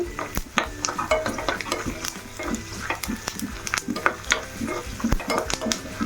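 Peanuts roast in a pan over lowered heat, rattling and scraping as they are stirred, with irregular clinks of the utensil against the metal at close range.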